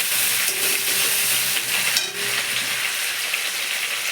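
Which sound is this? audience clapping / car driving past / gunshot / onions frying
onions frying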